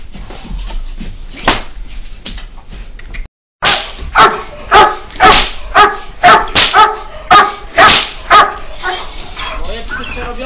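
Several dogs bark repeatedly and loudly nearby, in an irregular burst of sharp barks and yips that grows into a rapid, rhythmic series after a short gap.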